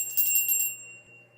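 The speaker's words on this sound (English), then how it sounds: "I'm going to ring the bell" A small bell rings once with a bright, high, sustained tone that fades out within a second, close and clear with nobody talking, used to open a pick-a-card reading.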